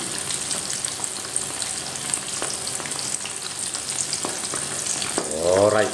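Chicken coated in Cajun spices fries in hot oil, giving a steady, dense sizzle with occasional pops and crackles close to the microphone.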